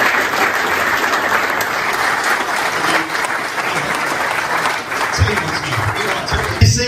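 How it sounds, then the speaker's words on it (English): A live audience at a football talk evening gives a sustained round of applause, steady dense clapping filling the room for several seconds before it begins to thin out toward the end. "A round of applause for Andy and the work that Andy did today."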